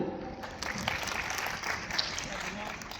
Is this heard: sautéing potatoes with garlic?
no